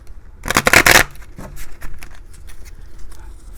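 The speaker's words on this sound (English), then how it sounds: "Let's draw out 7 cards." Tarot cards are shuffled in a loud close riffle that lasts about half a second, followed by softer scattered taps and slides as cards are drawn out.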